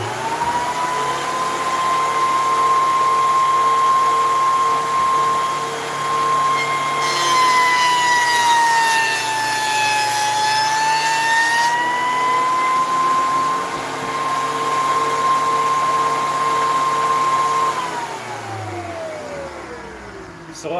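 A milling machine cutting black walnut box parts, its cutter holding a steady high whine that dips and swells as it engages the wood, loud and close over a machine drone, fading near the end.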